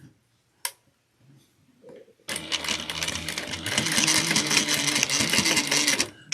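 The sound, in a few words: sewing machine stitching a clutch wallet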